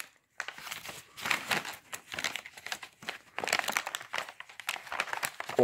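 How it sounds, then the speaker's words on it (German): A bag from a fireworks advent calendar is pulled open, with close, irregular bursts of crinkling and crackling plastic separated by short pauses. "Ich mache mal einmal kurz die Tüte auf."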